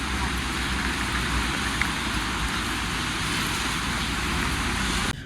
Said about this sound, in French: il pleut sa mère, on est trempé sa mère, ça fait 1 heure qu'il pleut